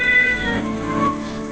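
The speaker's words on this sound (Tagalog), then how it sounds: "May kuting kaming dala" A young kitten gives a couple of drawn-out, plaintive meows up close, clear and fairly loud against a quiet room.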